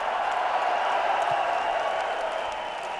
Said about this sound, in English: Give him another round of applause for a beautiful knockout.